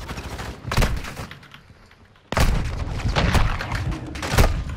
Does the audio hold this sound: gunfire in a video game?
yes